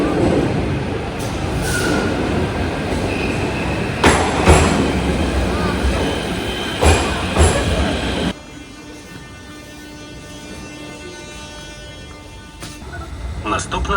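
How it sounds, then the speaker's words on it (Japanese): A Kyiv metro train rumbles loudly into an underground station with clattering wheels and sharp metallic knocks, then drops to a quieter hum with a soft whine as it slows and stops, while people talk. "それでは列車が入線してきました。"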